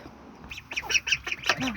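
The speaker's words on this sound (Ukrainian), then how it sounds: "Каченята нас тут чекали" Ducklings quack and squeak in a rapid, high-pitched chorus, fairly close, with soft background noise.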